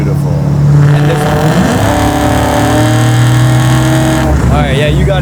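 A 750-horsepower LS9-powered Chevy Chevelle accelerates in a roll-on at three-quarter pedal from about 60 mph, its loud, steady engine note climbing in pitch from inside the cabin.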